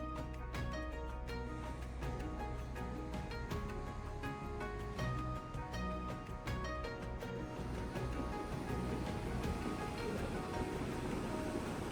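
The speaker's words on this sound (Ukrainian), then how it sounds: "Хвилі б'ються об стіну" Ocean waves strike a wall close by, a continuous wash of surf with scattered sharp splashes and clatters, faint overall and with no voices.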